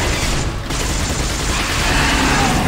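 Gunshots fired at a monster in The Darkness, a dense, continuous, loud clatter of fire with a brief dip early on.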